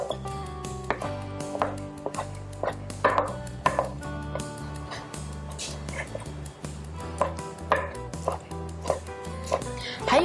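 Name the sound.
knife chopping shiitake mushrooms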